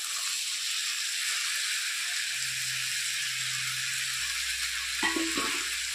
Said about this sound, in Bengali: কুচে রাখা ঝিঙে আলু দিয়ে দিলাম মশলার সঙ্গে, ভালো করে একটু কষে নিই।